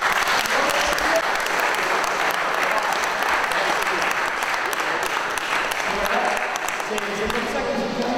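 Sustained audience applause at the Liège Basket 2012-2013 team presentation in the Garage Lussis, dense and steady clapping filling the room for the whole stretch with faint crowd murmur beneath.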